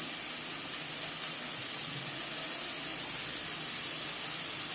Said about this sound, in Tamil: இப்போ பாருங்கள் சிக்கன் எல்லாம் நல்லா கடாயில் போட்டாச்சு